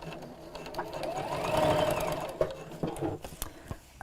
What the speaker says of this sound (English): And again, reverse stitch to make the seam strong.